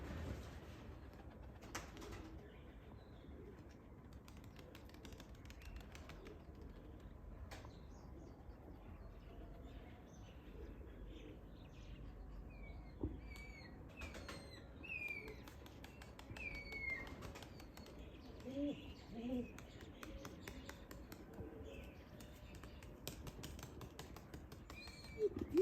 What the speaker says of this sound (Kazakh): Жас кептерлер ғой ойынды енді ашып жатыр.